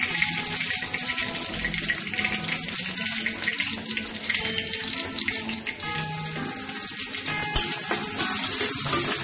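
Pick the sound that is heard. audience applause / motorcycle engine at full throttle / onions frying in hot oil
onions frying in hot oil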